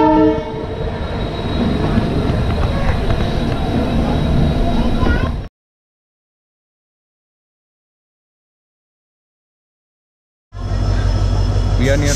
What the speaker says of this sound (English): So it's time to relax and enjoy the EMD sounds.